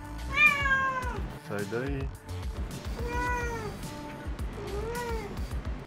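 A house cat meows several times, drawn-out rising and falling cries repeated at an even pace, close and clear, over a steady low hum with a person speaking briefly.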